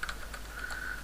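Steady keyboard typing, a quick run of light clicking keystrokes close by, with no talking.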